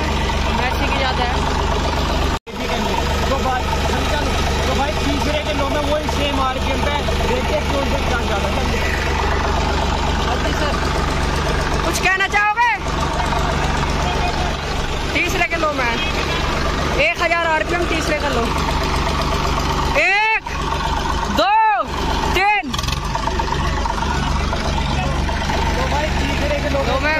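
Two tractors, a Massey Ferguson 241 and a Swaraj 735, run together in fourth gear low range at 1000 rpm, a steady loud diesel drone with a few brief dropouts and swells, while voices talk over it.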